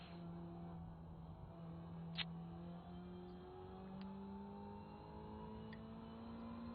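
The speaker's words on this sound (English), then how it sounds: "that's why you can hear the revs going through the roof" Race car engine in iRacing, revving high and steady with rising gear-whine tones, a sustained loud drone throughout, no voices.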